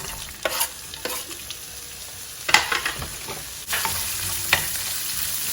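Onions frying in a pan for a masala aloo and chard sabji, with a constant sizzle broken by several close, sharp scrapes and knocks of a spoon stirring them, with no voices.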